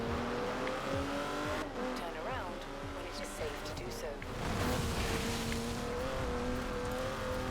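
A car races along a road in the video game Forza Horizon 4, its engine droning steadily with tire noise and shifts in pitch, while voices talk over the top throughout.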